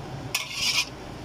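A short scrape of a spoon stirring chicken stew in a pot, one brief rasping stroke up close, with no talk.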